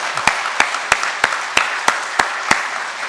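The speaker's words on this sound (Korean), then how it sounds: "우리 따뜻한 박수로 환영하겠습니다" Eight slow, evenly spaced claps ring out one after another, sharp and close, over a quiet church congregation at a Sunday worship service.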